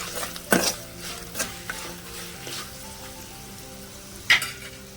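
A talimpu tempering sizzles in hot oil in a pan for pulihora, a continuous crackle broken by a few sharp clinks of a spoon against the pan, close and alone without speech.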